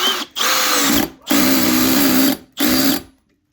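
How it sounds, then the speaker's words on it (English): A Milwaukee cordless drill driving a screw whirs in three loud bursts separated by short pauses, driving hard and steady each time, close by with no talking. "our drill again and try and drive our screw into place."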